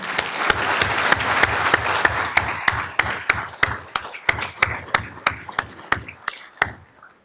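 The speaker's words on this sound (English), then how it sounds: "Please join me in another round of applause for Bruce." Applause from a conference audience after a talk at a university event, starting as a dense round of clapping that thins out over seven seconds into sparse, distinct, rhythmic claps before stopping.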